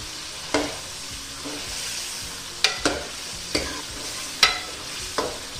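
Masala frying with yogurt for aloo gosht crackles and sizzles in a pan, while a spoon scrapes and knocks against the metal about seven times at an uneven pace, close and clear.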